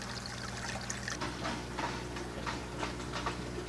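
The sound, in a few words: aquarium aeration hoses bubbling water in tilapia tank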